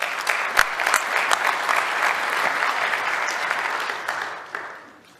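Steady, dense applause from a conference audience at an application security event, welcoming a speaker to the stage, holding strong for several seconds before tapering off at the end.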